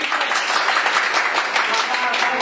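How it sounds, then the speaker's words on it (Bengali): An audience at a gathering applauding to welcome their leader: dense, continuous clapping from many hands, steady and fairly loud throughout. "সো আমরা প্রত্যেকে একটা করতালির মাধ্যমে উইশ করি।"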